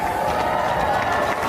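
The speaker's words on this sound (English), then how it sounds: "And that earned a rousing applause." Crowd applause and cheering at Joe Biden's presidential inauguration, a dense, steady wash of clapping and voices from a large outdoor audience, sustained throughout without a break.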